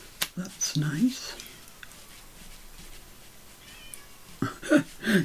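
Catkin, a cat, crying outside a door to be let into the room, a few short meows near the start and again at the end, moderately close but muffled, with quiet rustling between.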